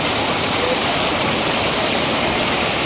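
Loud, steady rush of flowing water at a bathing spot, a dense unbroken roar close by with no voices.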